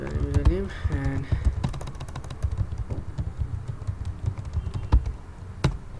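Keys clatter on a computer keyboard as a username is typed, a close, rapid run of light taps with a few louder clicks, and a voice speaking briefly at the start.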